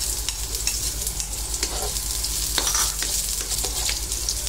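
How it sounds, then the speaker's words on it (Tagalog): Chopped onion sizzles and crackles in hot cooking oil in a pan, a steady, loud frying hiss with occasional stirring scrapes and no talking. "Magigisa po tayo ng sibuyas, bawang at kamatis. Unahin po natin ang sibuyas."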